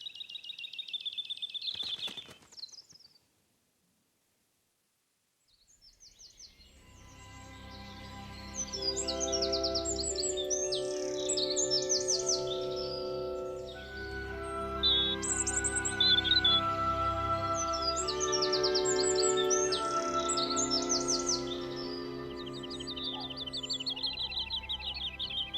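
A morning dawn chorus of songbirds: a sharp call, then a short silence before layered whistling songs build and carry on steadily, dense and fairly close, with no voices.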